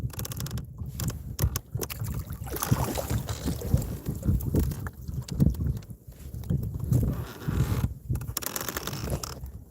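Wind buffets an outdoor microphone while fishing on Conneaut Lake, Pennsylvania, a constant low rumbling roar that swells and dips in gusts, with occasional brief lulls.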